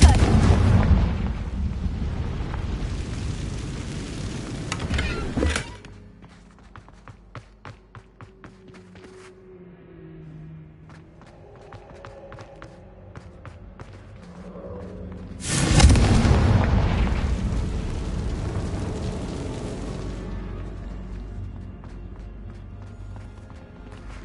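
Confringo spell explosions in a Harry Potter game, two big fiery bursts several seconds apart, each a loud broad roar fading slowly, with quieter crackling and ringing between them.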